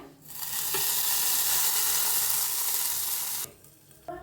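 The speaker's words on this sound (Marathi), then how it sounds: "थोडस टाकूया हिंग मस्त असं बघा किती छान असे फोडणी बसलेले आहे आपले फोडणी वतून घेऊया" Asafoetida dropped into hot oil for a tempering, with the gas already switched off, bursts into a loud, steady sizzling hiss that cuts off abruptly, leaving faint crackles and a brief clatter.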